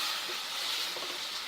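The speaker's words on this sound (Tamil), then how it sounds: "இப்போ வந்து இதில் பால் ஊற்றுறேங்க, இந்த 1/2 கப்பு பால் ஊற்றுறேங்க." Half a cup of milk poured into roasted gram flour in a hot pan while making pumpkin seed burfi, giving a steady, close, broadband sizzling hiss throughout with no talking.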